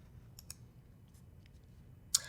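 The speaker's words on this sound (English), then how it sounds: "I'm just going to click this New button here to create a new VM." A computer mouse gives a few sparse, light clicks close by in a quiet room: two near the start, a couple of faint ones in the middle, and a sharper click at the end.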